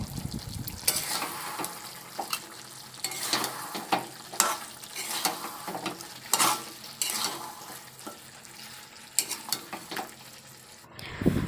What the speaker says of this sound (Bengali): দিয়ে এটাকে আর একটু ভালো করে আমি কষিয়ে নেব